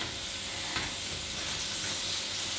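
Garlic and onion frying in a pan for a seafood paella, giving a steady, close sizzle with light stirring scrapes and one brief clatter, no voices.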